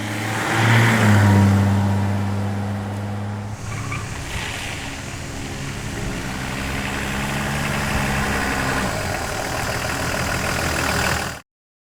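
A 1980s Lincoln Mark VII with a diesel engine runs steadily, with a low idling drone that rises briefly in revs near the start and then settles into a continuous loud hum with no talking.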